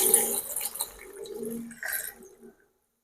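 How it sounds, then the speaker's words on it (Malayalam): Water pours into a mixer jar holding hibiscus leaves, splashing and gurgling close by for a couple of seconds before stopping. "എന്നിട്ട് കുറച്ച് വെള്ളം ഒഴിക്കുക"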